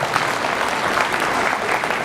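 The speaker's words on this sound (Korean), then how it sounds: "맞으면 박수 부탁드립니다" Audience applause in a convention hall lecture, a loud, continuous wash of many hands clapping together that stays even across the short stretch, without talk.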